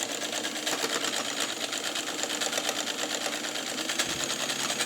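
A Kenmore 117.55 rotary sewing machine, made by White, stitching at a steady pace, a continuous close whirring hum with a fast even mechanical pulse and no talking.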